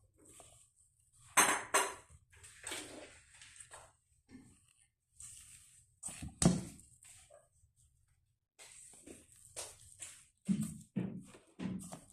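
Halo-halo ingredients are stirred in a dish, giving irregular clinks and scrapes of a spoon against the glass or bowl in bursts with quiet gaps between, close and moderately loud.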